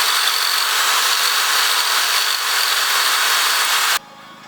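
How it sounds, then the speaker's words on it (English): A loud, steady high-pitched grinding whine of a drill bit cutting blue gasket material while fitting a turbocharger to a Miata, running continuously before cutting off abruptly near the end. "I need to cut out that stuff that's blue with this drill bit."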